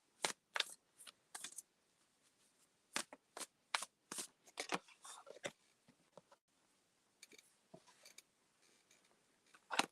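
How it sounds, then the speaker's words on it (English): Tarot cards being shuffled close by in short, crisp riffling bursts separated by brief pauses, quiet and alone with no talk. "I'm shuffling right now for Linda"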